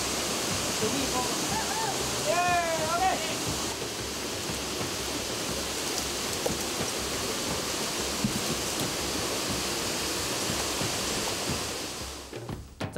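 A waterfall in Shenxian Valley at Nanzhuang pours in a constant broadband roar of rushing water, steady and enveloping throughout, with a brief voice-like sound early on before the rush fades at the very end.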